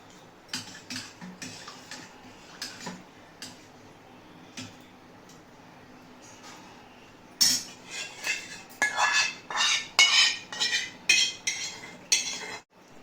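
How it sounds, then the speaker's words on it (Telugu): A spoon knocks and clinks against a metal pot while onion and green chilli are stirred into a buttermilk curry, sparse taps at first, then a quicker, louder run of clattering strokes. "ఉల్లిపాయ పచ్చిమిర్చి కూడా ఇందులోనే కలిపేసుకోవాలి"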